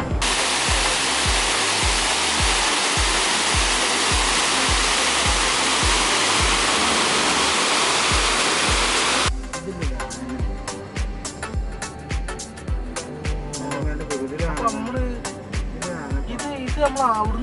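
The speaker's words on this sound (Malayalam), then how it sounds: "കറണ്ട് ഉൽപ്പാദന ശേഷമുള്ള വെള്ളം പുറത്തേക്ക് പോകുന്നതാണ് ഇപ്പോൾ ഇവിടെ ഉള്ളത്" Water released from a hydroelectric power house after generating electricity rushes out in a loud, steady roar, then turns to a softer, uneven flow beneath voices.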